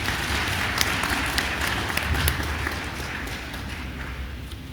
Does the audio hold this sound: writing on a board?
no